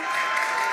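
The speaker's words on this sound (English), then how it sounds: "you can hear the crowd is very excited about it" A brief burst of dense crowd applause and cheering during a Starship Super Heavy launch, a steady wash of clapping.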